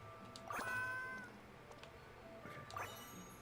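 Two distinct meows from a nearby cat, the first longer and the second shorter, set against a quiet hum.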